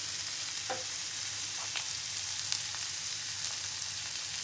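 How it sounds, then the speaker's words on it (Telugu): A vegetable curry fries steadily in a pan with a constant soft sizzle, broken by occasional light clicks and scrapes of stirring, fairly quiet and with no talking. "ఇది ఇంకొంచెం వేగాలండి."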